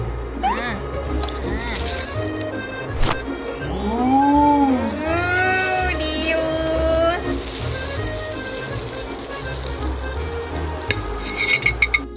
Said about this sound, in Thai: ใส่เนยลงไปเลย พอกระทะเริ่มร้อนนะคะ เราก็โปะลงไปเลยค่ะ